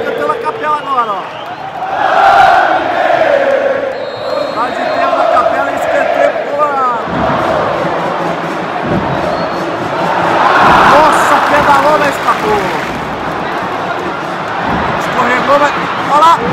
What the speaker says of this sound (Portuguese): a torcida cantando a capela agora